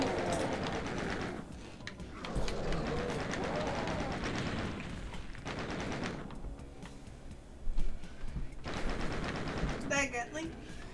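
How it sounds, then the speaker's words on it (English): Rapid gunfire from the classic Doom video game, with bursts of shots and explosions running through most of the stretch at moderate loudness, while players talk and react excitedly over it. "If you shoot in front of you, it will hit your enemy in front of you."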